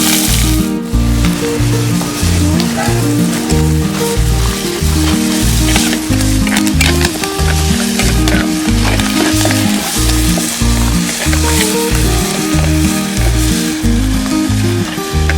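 Crushed ginger, shallots and garlic fry in a sardine curry with a loud, continuous close-up sizzle, set against a steady rhythmic musical beat.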